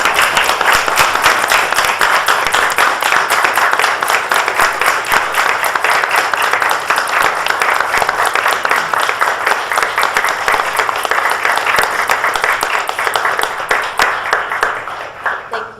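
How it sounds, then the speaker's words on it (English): Sustained, loud applause fills a board meeting for about fifteen seconds, many hands clapping steadily before thinning slightly at the end. "an enormous round of applause"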